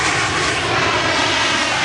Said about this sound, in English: like the one which has just landed